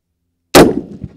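.50 BMG Russian API rifle round fired at a concrete jersey barrier, a single loud sharp blast after silence, followed by a short ringing, rumbling decay.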